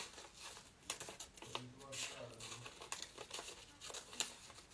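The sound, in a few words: scissors cutting out stars from yellow paper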